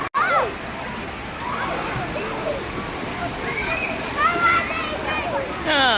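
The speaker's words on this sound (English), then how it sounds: "see the way he's pouring water." Water poured and splashing at the African Lion Safari water play area, a continuous splashy wash with louder surges, under children's and adult voices talking and calling nearby.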